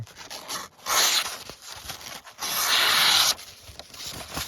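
A Ganzo G720-G folding knife slices through cardboard in two longer rasping, scraping strokes with lighter scratchy passes between them, close and fairly loud with no talk.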